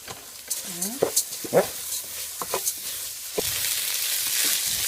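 Washed rice poured into a pot of hot spiced oil and stirred, giving a crackling sizzle with scraping spoon strokes, close by, a few short knocks and a voice briefly heard in the background.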